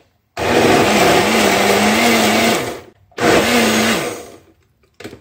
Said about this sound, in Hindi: इन दोनों को मैं पीस लेती हूँ